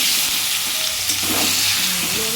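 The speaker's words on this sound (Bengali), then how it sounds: "পাকা পাকা টমেটো দিয়ে একটু নেড়ে নেবো" Potatoes, okra and tomatoes fry in a pan for a homestyle bhindi aloo sabji, a steady loud sizzle with the scrape of stirring running throughout, no voices.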